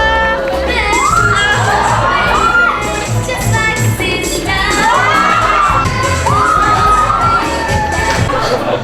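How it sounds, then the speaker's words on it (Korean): A youth group crowd shouting and cheering in welcome at a church gathering, loud and continuous with rising whoops and excited children's voices in repeated swells. "우리 팔팔돌이를 향해서 큰 함성으로 환영한다"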